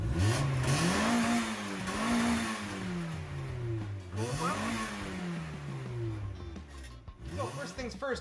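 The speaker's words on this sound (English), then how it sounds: "we put a new exhaust on his Miata" A Mazda Miata fitted with a new exhaust revs repeatedly, the engine note rising and falling in several swells, loud and close, with a rough raspy edge.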